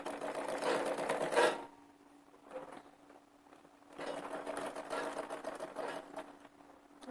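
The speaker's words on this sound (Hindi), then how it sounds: "सबसे पहले पूरे गले में गोल गोल सिलाई कर लेते हैं।" A sewing machine stitches in a circle around a kurti neckline for a Rajasthani outfit, running in steady, close bursts with a quieter pause between two runs.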